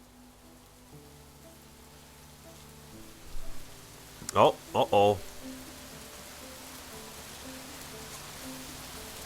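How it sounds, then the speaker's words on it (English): Torrential rain in the video game Rising World forms a soft, continuous hiss throughout, while a man briefly exclaims midway over the downpour. "Yep, we've got ourselves a torrential downpour, ladies and gentlemen. It's pouring down rain."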